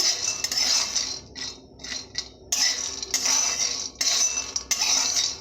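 Shelled peanuts being dry-roasted in a pan for singara filling: close rattling and scraping of nuts against metal in repeated bursts with short pauses, no talk.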